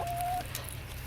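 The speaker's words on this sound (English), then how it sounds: "our chickens, which are very excited about this kale" Farm chickens cluck softly over kale at snack time, a few faint close clucks over a steady outdoor background with a brief high whistle at the start.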